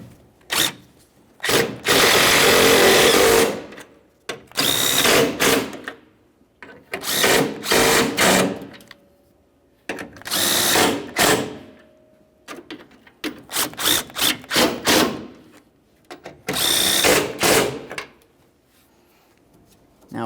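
A power tool snugs up bolts on the AC condenser of a 2002-2009 Chevrolet Trailblazer with the 4.2L inline-six, sounding in repeated loud whirring bursts of a second or two, separated by short quiet gaps.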